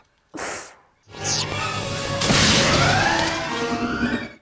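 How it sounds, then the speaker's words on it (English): Security glass smashing in a Star Wars: Attack of the Clones scene, a short sharp hit followed by a loud crashing burst and a scatter of shattering debris with mechanical rumble, lasting several seconds. "Just broke through the glass."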